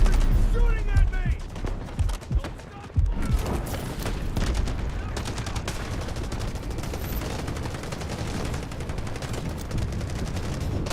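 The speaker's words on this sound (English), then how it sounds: "Shooting at me!" Dense assault-rifle gunfire in the Delta Force video game, a high-rate-of-fire weapon cracking in long rapid bursts nearly nonstop, loud and close, with a voice briefly talking over the shooting.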